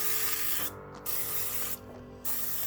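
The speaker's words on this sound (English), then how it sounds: "grab your cooking spray and spray these chicken breasts down" Cooking spray hisses onto raw chicken breasts in two separate bursts of about half a second each, close and fairly loud, with a pause between them and a steady kitchen background hum throughout.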